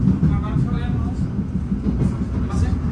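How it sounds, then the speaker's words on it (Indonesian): Low rumbling rattle of a moving passenger train's dining car on the Jakarta to Banyuwangi route, a steady heavy drone under quiet conversation from people aboard. "Ini kita ada di kereta makan"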